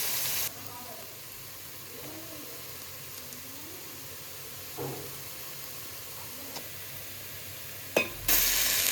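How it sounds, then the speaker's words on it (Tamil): Onions frying to golden brown for a home-cooked tomato biryani give a steady, moderate sizzle with a few soft stirring clinks and brief louder bumps. "நல்லா வெங்காயத்தை கோல்டன் ப்ரௌனில் வதக்கணும்"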